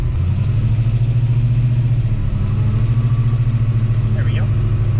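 Low, steady rumble of a 1970 Ford Mustang Boss 302 V8 muscle car engine as it is put in gear to pull away, loud and continuous with a pulsing beat, heard from inside the car.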